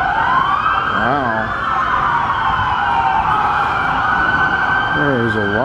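Wailing police sirens sweep up and down continuously in Galveston, fairly loud, with a second siren's rising whoops joining near the start and end amid traffic noise.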